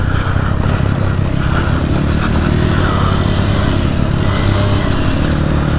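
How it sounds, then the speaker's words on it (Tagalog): A motorcycle slips and slides along a slick trail on the way to Imugan Falls, with a loud, steady engine drone and wind rumble close to the mic throughout. "Grabe, dumudulas yung buong motor."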